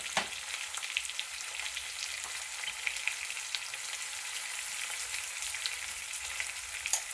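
Chopped tomatoes with a little salt fry in a pan for rava kichadi, giving a steady close hiss of sizzling with small crackles and occasional stirring scrapes.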